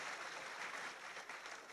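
Audience applause in a lecture hall during a talk on Indonesian fiscal reform, a steady dense wash of clapping filling the whole moment at moderate, slightly distant level with no voice over it.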